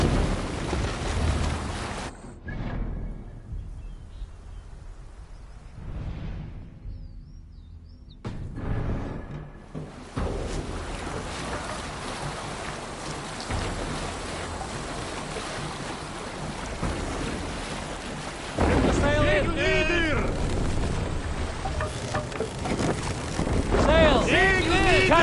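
A Viking longship at sea in Assassin's Creed Valhalla, carried by wind and waves with a steady rushing wash and gusts, getting louder and rougher toward the end. Voices shout over it at times.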